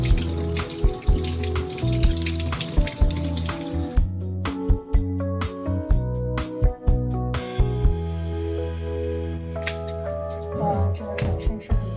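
Tap water runs and splashes over fresh Alaskan red sea cucumber being rinsed in a kitchen sink, with irregular bursts, gurgles and handling clatter close to the microphone, briefly stopping and restarting.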